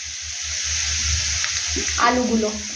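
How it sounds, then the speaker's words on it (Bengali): Chopped onion, garlic and bay leaf frying in hot oil: a steady, close sizzle with a hiss running throughout and a low rhythmic hum beneath, while a voice speaks briefly toward the end. "পেঁয়াজ কুচি আর রসুন কুচি তেজপাতা একটু কয়েক সেকেন্ড ফ্রাই করার পরে"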